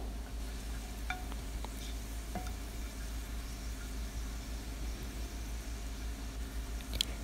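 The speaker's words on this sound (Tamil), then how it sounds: "ஆயில் நல்லா சூடானதுக்கப்புறமா புளியை போட்டு நல்லா ஃப்ரை பண்ணி எடுத்துடலாம்" Tamarind frying in hot oil in a pan gives a steady, soft sizzle with a few faint clicks, low and even throughout, with no talking.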